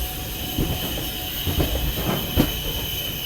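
The Circar Express passenger train rolls into its final station at Puducherry, wheels clacking over rail joints with a steady rumble and faint squeals, a few louder thumps marking the cars passing.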